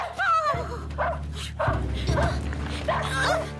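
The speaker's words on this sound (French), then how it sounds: "mon chien-chien" A dog whimpers and lets out high, thin yips several times, close by, over a steady low background hum.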